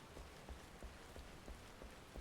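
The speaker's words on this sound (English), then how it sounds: "Now it is raining, so we do want to get out of the rain." Rain in the online game Final Fantasy XIV, a faint steady patter of drops on surfaces with soft periodic thumps, no voices.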